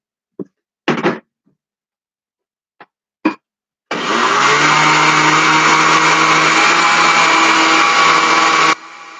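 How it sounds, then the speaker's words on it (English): Kitchen blender running on high speed, puréeing a 1969 Betty Crocker dried beef dip, preceded by a few short knocks and taps, then a loud steady whirring drone lasting about five seconds before cutting off. "Blend on high speed until smooth and creamy, about 2 minutes."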